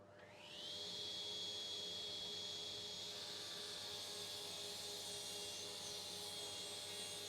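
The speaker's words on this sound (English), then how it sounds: "the dust collector on first" A workshop dust collector spins up and then runs as a loud, steady whine and whoosh with a sustained high motor tone.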